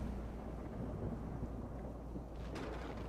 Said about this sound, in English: Start to hear the lightning and thunder.